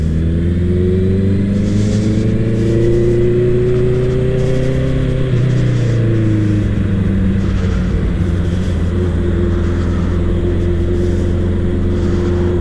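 Cars pass on a road during a road trip to João Pessoa, Brazil, heard as a continuous close engine rumble and whir with rising and falling revs, loud and steady throughout with no talking.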